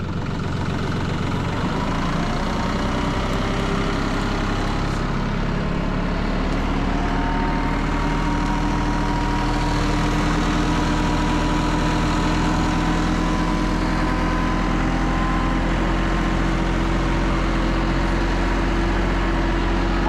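A tractor engine on a 100-acre homestead runs steadily at a low throttle for the whole stretch, a close, continuous mechanical drone with a deep rumble and no voices over it.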